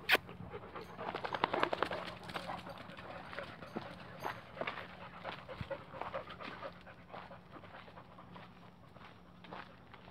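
Dogs pant rapidly on a trail walk, a steady quiet huffing close by with scattered footsteps and brush rustles, louder at first and fading slightly.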